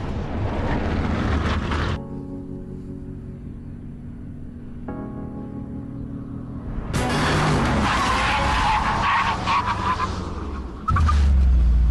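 A Grand Coupe car accelerates to 60 and brakes hard, its tyres skidding in a long loud squeal with a steady tonal whine, followed by a burst of engine and road noise close by.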